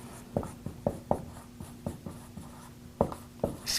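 Pen writing on paper to note repair material costs, about a dozen quick close scratchy strokes in an uneven rhythm, faint and alone with a low steady hum beneath.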